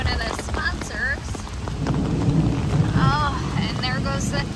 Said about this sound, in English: Oh, and there goes the thunder.